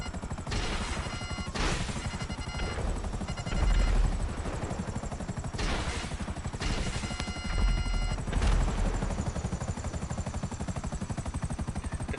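A helicopter in GTA Online flies through a Denial of Service mission, its dense rotor throb steady throughout, cut by loud bursts of crashing and gunfire-like impacts, with no talking.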